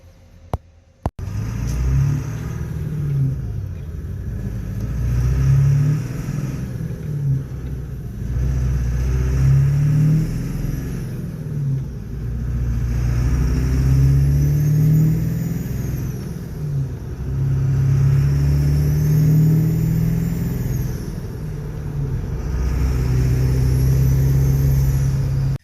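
Ford 7.3 Super Duty diesel truck with a ZF6 manual transmission swap on a test drive, its engine rumbling steadily throughout, rising and falling as it revs through gears, with no talk.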